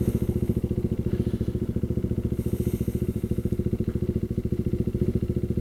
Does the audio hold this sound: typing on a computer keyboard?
no